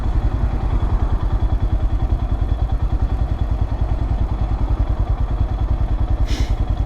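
A 2022 Royal Enfield Himalayan converted to a carburetor idles close by at about 1100 rpm, its single-cylinder thump pulsing in a steady, even rhythm, with a brief high chirp near the end.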